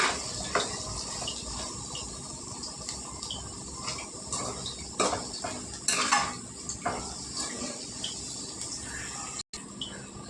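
Chili powder frying in a pan for a potato curry, with a spoon scraping and clinking against the metal pan over a soft background sizzle, close and continuous.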